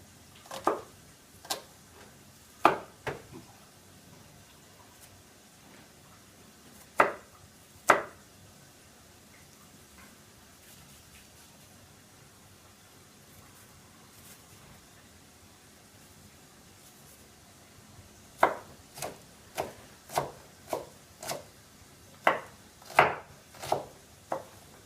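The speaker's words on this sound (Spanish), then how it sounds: "Entonces voy a cortar la cebolla para" A kitchen knife chops an onion on a board, with scattered single knocks early on and then a quicker run of sharp, close chops near the end over a quiet background.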